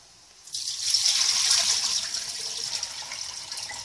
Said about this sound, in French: je lave un peu mon riz pour enlever l'amidon